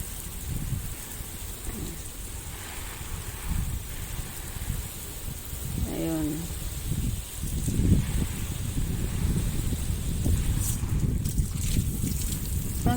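Steady, loud outdoor wind roar with gusty rumbling and rushing noise, continuous throughout, with a few faint voices and bird-like chirps briefly rising midway.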